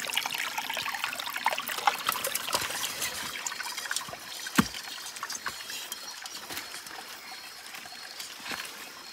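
A shallow forest stream running low in the dry season trickles and dribbles steadily, with scattered splashes and small knocks over a continuous watery wash.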